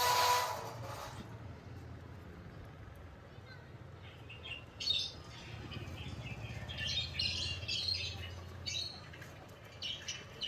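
A pet parrot gives sharp, raspy squawks and chirps in bursts through the second half, over a low steady rumble, with people talking nearby.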